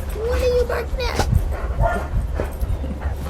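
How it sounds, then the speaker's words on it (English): A neighbour's dog barks and whimpers with high crying whines and short yips, mixed with a person talking over a low steady hum. "What are you barking at?"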